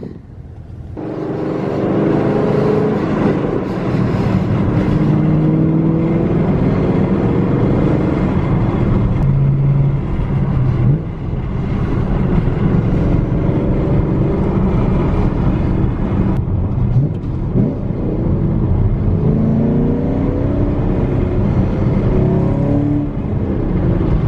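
A Chevrolet Camaro SS 1LE with a manual transmission drives along, its engine a loud, steady rumble with rising and falling revs throughout, heard from inside the car with no talking.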